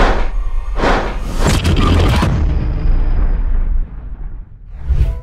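A film's atomic bomb detonation: several deep booming bursts roll out in quick succession, loud and close, then the roar decays into a softer rumble before a last swelling surge, with no voices.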